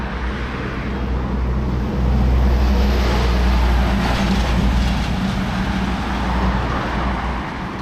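Early-morning traffic on busy Limuru Road in Nairobi makes a continuous low rumble of passing vehicles, swelling louder midway as a heavy vehicle goes by close.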